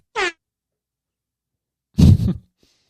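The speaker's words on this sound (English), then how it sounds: "That's my new favorite sound, by the way, is the DJ air horn sound" A short, blaring horn blast rings out, then after a long pause comes a louder, rougher burst of noise.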